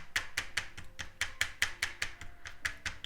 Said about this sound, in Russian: мы отбивать будем маленькими зубчиками, потому что большие зубчики предназначены для жесткого мяса